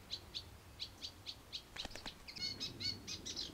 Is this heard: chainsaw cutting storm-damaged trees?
no